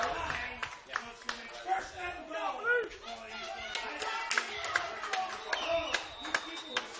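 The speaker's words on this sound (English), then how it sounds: "a lot of disdain for the referees turns into some claps for their own players on this side" Home fans at a high school football game, Leo at East Noble, give scattered, moderately distant applause for their own players. The clapping sits under crowd chatter and a commentator's talk.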